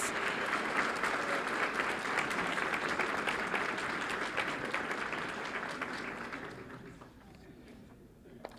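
A school board meeting audience gives a round of applause for honored students, dense continuous clapping that holds steady and then gradually thins and fades out near the end.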